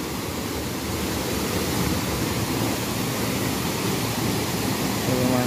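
A waterfall in a scenic natural setting pours as a dense, steady broadband roar of rushing water, loud and continuous from start to finish with no voices over it.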